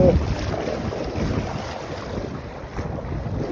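Typhoon Tino roars over Palawan with loud, gusting storm wind buffeting the microphone, a continuous rushing blast that swells and eases without any voices.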